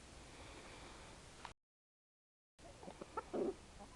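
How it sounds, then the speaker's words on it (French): Backyard rooster and hens cluck softly and briefly, a few short calls after a moment of silence, faint and fairly distant against low background noise. "C'est un rendez-vous galant avec Morgane, le coq fier et courageux."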